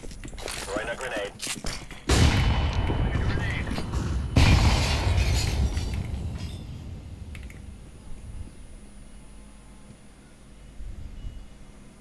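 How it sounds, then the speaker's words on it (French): A grenade is thrown during a Counter-Strike 2 match, giving two sharp, loud broadband bursts that each fade into a decaying rumble, followed by quieter game noise. "Throwing a grenade."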